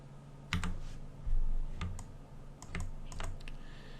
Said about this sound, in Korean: 딜리트 버튼.